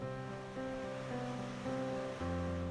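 Gentle ocean waves roll in steadily at Redondo Beach, a faint continuous wash with a few tonal hums layered over it.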